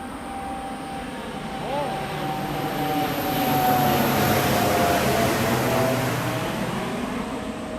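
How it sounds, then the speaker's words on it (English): A charter airplane passes over Tokyo on a hot, humid day, its low engine drone swelling from moderate to loud and then easing slightly, with a steady whine over it. "Ooh, another flight coming"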